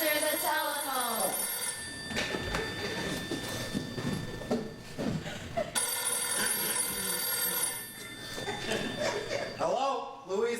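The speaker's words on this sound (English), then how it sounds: "Answer the telephone." A telephone bell rings repeatedly during a live stage performance, its steady electric trill sounding under lively voices and chuckling from actors.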